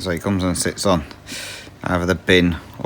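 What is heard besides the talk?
No everyday noise stands out behind the speech.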